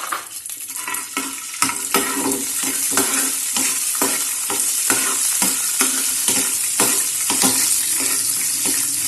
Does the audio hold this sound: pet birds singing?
no